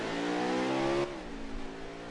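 Race car engine in a NASCAR-style racing video game at Michigan, leaving pit road: a steady, loud, harmonic engine drone that drops in pitch partway through as it shifts, then a quieter, rougher rumble.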